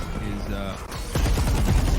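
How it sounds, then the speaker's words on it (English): Rapid bursts of video game gunfire on a map's B side during a competitive match, growing louder and denser in the second half, with a faint voice underneath. "Gunshots being fired off here on the B side of the map."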